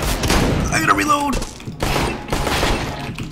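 Video game gunfire in a processing plant setting, a loud close burst of rapid shots followed by further volleys, with a player's voice speaking over it.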